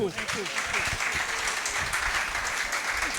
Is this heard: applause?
yes